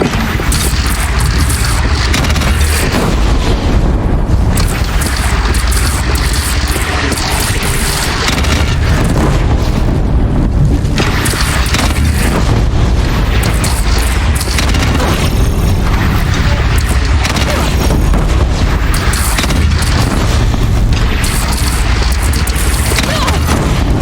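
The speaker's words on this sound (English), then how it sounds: "They only have one cannon!" Cannon fire in the Horizon Zero Dawn video game, heard as repeated heavy booms and explosions in a dense, loud, continuous barrage of battle noise.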